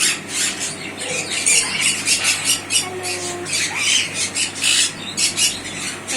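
A tame pet parrot in an exotic bird aviary squawking loudly and repeatedly in harsh, rasping bursts close by, with some faint squeals mixed in.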